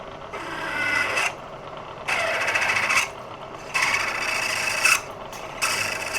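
A drill bores a pilot hole at slow speed into the metal base of a Black Diamond drill grinder, heard as four or five loud rasping bursts, each about a second long, with short pauses between them and no talking.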